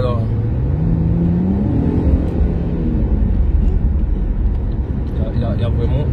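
A Chevrolet Camaro RS engine pulls hard under acceleration, a loud, deep, steady roar heard from inside the car with a rising pitch sweep, and a voice speaks over it.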